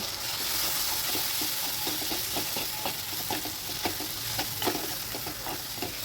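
Chana dal with onion and tomato being sautéed in a pan: a steady, close frying sizzle broken by frequent stirring scrapes and taps, with no voices.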